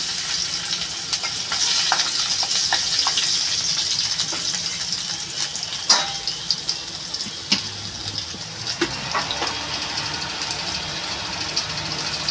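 Garlic fries in hot oil in a pan with a steady, close sizzle, broken by occasional stirring clinks and scrapes, and no one speaking.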